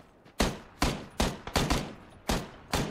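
Gunfire in PLAYERUNKNOWN'S BATTLEGROUNDS: seven sharp, loud shots in an uneven burst, each with a short decaying tail, spaced roughly half a second apart with some pairs closer together.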